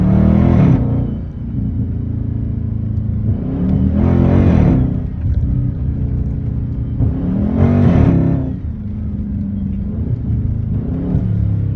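A Hellcat V8 engine swapped into a 392 Scat Pack revs hard in repeated bursts, roughly every four seconds, over a steady deep rumble while driving, loud and close.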